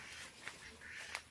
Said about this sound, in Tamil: வாத்து பாய்ஸ் இங்கே இருக்காங்க.